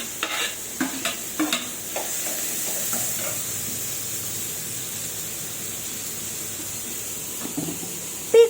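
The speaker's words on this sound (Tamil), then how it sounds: "இப்போ வெங்காயம் சேர்த்துக்கலாம்." Onions frying in a pan and being stirred, with a soft steady sizzle broken by scraping strokes near the start and again toward the end, then one sharp knock.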